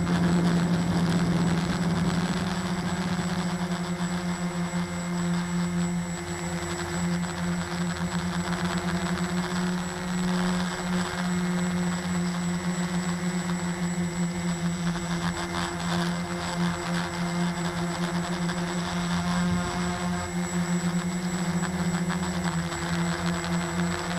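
A Walkera RC helicopter flies over a field, a constant droning buzz of electric motor and rotor with steady low tones, unbroken and fairly loud for over twenty seconds with no talk.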